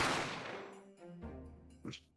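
A single gunshot from The Great Ace Attorney video game cracks loud and close at the start, then decays into a long ringing tail, followed by softer game sound effects and a brief sharp burst near the end.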